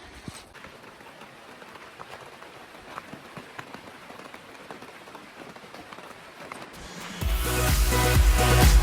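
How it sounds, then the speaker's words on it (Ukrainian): Steady January rain patters on a surface by greenhouses, soft and continuous, before a louder, rougher noise swells up in the final seconds. "Дощ другий день іде."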